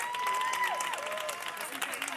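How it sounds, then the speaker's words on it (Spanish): Audience applause at a public gathering in Fuenlabrada, a dense steady patter lasting throughout, with a voice talking over it and a faint sliding tone. "aplausos por favor"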